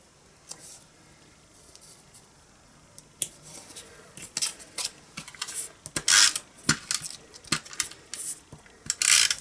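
Scissors snip through paper while a square fold-flat gift box is being made, a run of quiet, irregular crisp cuts that grows louder and busier toward the end, with no voices.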